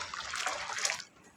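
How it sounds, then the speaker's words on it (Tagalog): Hot, boiling water in a pot used for dyeing salted eggs, a bright bubbling, splashy liquid sound that runs steadily for about a second and then fades lower, with no talk over it. "Mainit na tubig po yan, yung kumukulong"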